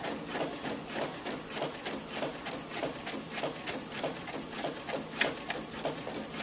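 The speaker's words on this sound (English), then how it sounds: "So that's a printing off my iPhone using the driver of the MacBook." A printer runs a document sent from an iPhone, giving a faint, quick rhythmic whirring and clicking of the paper feed and print head that repeats evenly throughout.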